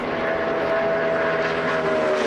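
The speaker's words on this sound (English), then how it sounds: "You hear those motors just singing for a long, long time" NASCAR Nationwide Series stock car engines at Auto Club Speedway hold a sustained high-RPM roar, a loud continuous drone with a steady tonal whine and no break.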